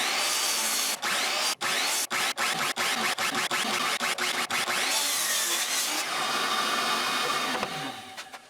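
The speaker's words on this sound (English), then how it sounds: "Next, I trimmed down each of the boards to about 2 feet in length." A power saw trims hardwood boards, including rosewood and black walnut, to about two feet long: a loud steady whining cut run broken by sharp gaps and clicks, then a fading spin-down, with no talk.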